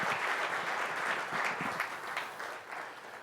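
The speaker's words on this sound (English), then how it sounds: "I think we should owe Annie a round of applause" Clapping from the congregation at a Sunday service, a steady round of hand claps from the gathered audience that stays moderately faint and slowly tapers off toward the end.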